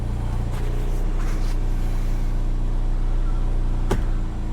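A 2015 GMC Terrain engine idles steadily with a low, even hum while the transmission is shifted through its gears, one brief sharp click cutting through near the end.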